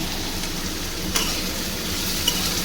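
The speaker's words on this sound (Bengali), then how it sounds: "সেইভাবেই আমি আলুটা ভাজবো" Potatoes fry in a pan with a continuous close sizzle, and a utensil stirs them now and then with a couple of faint scraping clicks.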